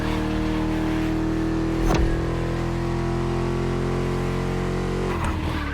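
A V8 engine drones steadily in The Crew Motorfest racing game, a loud, constant low growl held at high revs, briefly punctuated by a thump before easing off near the end.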